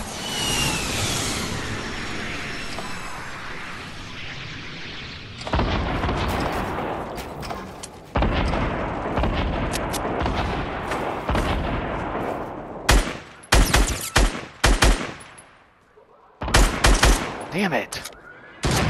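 AK rifle fire in a video game shootout: dense bursts of automatic gunshots and booming impacts, loud and close, broken by short pauses, then rapid separate volleys toward the end.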